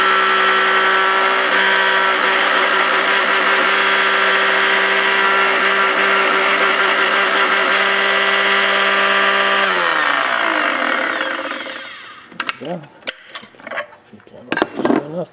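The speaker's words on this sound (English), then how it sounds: "Today we're looking at the Biospec mini bead beater." A Biospec mini bead beater motor running at a single speed, a loud, steady whine and rattle that holds constant for about ten seconds, then spins down and stops, followed by faint handling clicks.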